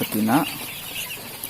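Muscovy ducks on a home farm, one brief close low call sounding near the start, followed by quiet ambient farmyard background.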